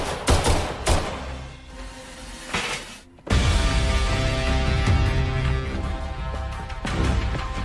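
Film gunfire comes as several sharp bursts of shots early on, then a brief lull, followed by a dense, sustained, loud barrage of rapid firing that continues to the end.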